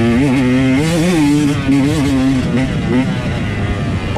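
A Husqvarna TE 150 two-stroke dirt bike engine revs and bogs during a hare scramble race, steady and close throughout, with a rider's voice speaking over it.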